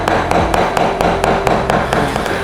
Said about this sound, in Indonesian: Selanjutnya kulit ikan ini akan kita cincang lebih halus lagi.